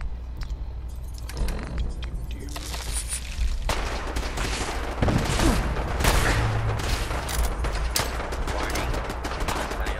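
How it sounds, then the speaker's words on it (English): Fallout 4 gunfire rattles in bursts and scattered shots, some close and sharp, others duller, amid busy game noise for a sustained stretch. "somebody else is firing at me"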